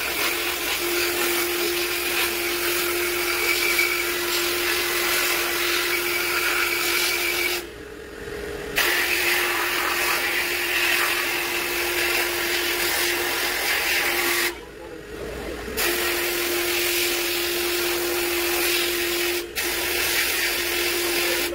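A sandblaster blasts grit against the piston of a GY6 150cc scooter engine with a loud, continuous hissing roar over a steady whine. The spray cuts out briefly twice and then resumes.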